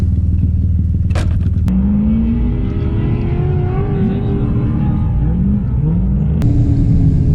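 Drift cars at a tandem drifting event, four cars running together, give a loud continuous engine roar and rumble with rising and falling revs, steady throughout with a sharp burst near the start.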